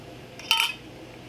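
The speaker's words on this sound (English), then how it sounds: "And now we're going to put our screw bands on" A single metallic clink as a screw band is handled on a glass canning jar of preserved food, one short bright ring heard close up against a quiet background.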